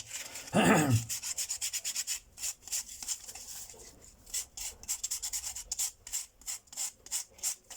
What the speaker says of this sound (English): get those down to level. I'm starting with some 180 grit here.